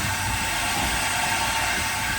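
Haas VF-3YT/50 CNC vertical machining center spindle turning at 2,500 RPM, a steady close mechanical whir with an even broadband hum and no break in level.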